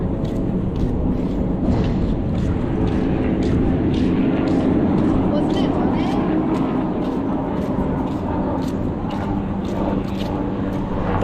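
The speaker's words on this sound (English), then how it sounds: "The helicopter you hear going by, that is Magnum PI helicopters." A helicopter flies over Waikiki, its low, steady drone hanging over the street ambience for the whole stretch, fairly loud and sustained without a clear peak.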